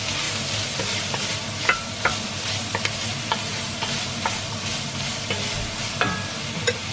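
Chopped onion sautéing in a pan as the base for minestrone soup, a steady sizzle and frying hiss with light stirring scrapes and occasional utensil clinks throughout.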